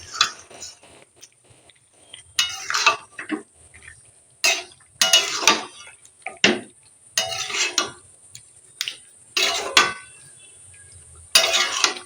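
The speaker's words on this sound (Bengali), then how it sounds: "কড়াটা খুব ছোট বলে খুন্তিটা হাত থেকে নাড়তে গিয়ে পড়ে গেল" A metal spatula clatters and scrapes in a small wok, giving a series of sharp, irregular knocks and rattles separated by short quiet gaps.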